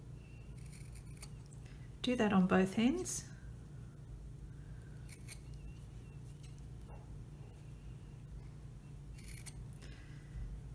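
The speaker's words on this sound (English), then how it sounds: "Then you're going to trim the corners, being careful not to cut your stitching." Scissors trim the fabric corners of a mug bag with a quick cluster of close snips, set between stretches of calm talking and a faint background hum.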